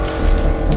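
A cartoon motorcycle roars in a brief, loud burst of engine noise as it starts and pulls away, up close and without talk.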